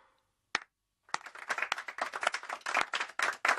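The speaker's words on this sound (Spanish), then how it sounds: "¡Vamos a dar palmas juntos!" On a children's television show, a lone clap sounds first, then after a short pause a group claps together in quick, uneven bursts that grow louder and denser.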